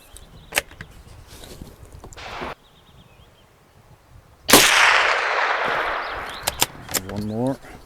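A Tikka T1X .22LR rifle loaded with CCI Stinger ammunition fires a single sharp, close crack with a short ringing tail. Lighter clicks and brief speech come before and after.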